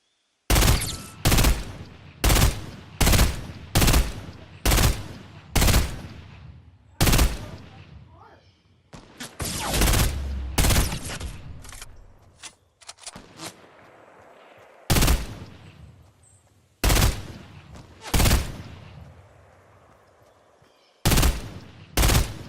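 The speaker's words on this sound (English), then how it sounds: "she ends up coming down chasing me and kills me with the suppressed pistol very quick" Suppressed pistol shots crack in Fortnite, a dozen or so sharp, close reports fired in quick uneven bursts with short gaps, alongside a stretch of scuffling game noise and a voice.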